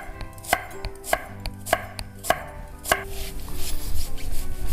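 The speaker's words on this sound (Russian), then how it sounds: "летних луковиц и мелко-мелко их нарезаем" Summer onions being finely chopped with a knife on a board, a crisp regular series of close, sharp knife strikes that speeds into quicker, denser cutting toward the end.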